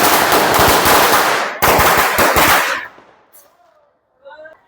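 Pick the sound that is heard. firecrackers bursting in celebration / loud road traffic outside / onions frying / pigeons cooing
firecrackers bursting in celebration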